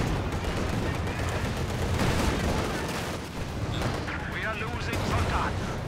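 Sniper rifles and anti-tank guns fire at long range in a Company of Heroes 2 battle, with dense overlapping cracks and booms running steadily throughout under game ambience.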